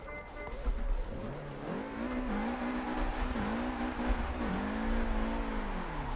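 Car engine in Forza Horizon 4 driven with a 900-degree wheel during a street gymkhana drift run through the city, revving steadily and swooping up and down in pitch as the throttle is worked, continuous and upfront.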